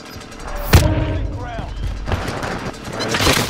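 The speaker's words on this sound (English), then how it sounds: "they're taking shots at you from camp" Gunfire in a battle royale video game, with a sharp nearby shot followed by scattered, more distant cracks and booms while players talk over it.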